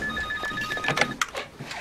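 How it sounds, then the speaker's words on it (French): A telephone rings in a French police station office, a short electronic trill with repeating bright tones, close and clear over faint room noise. "Ah, téléphone."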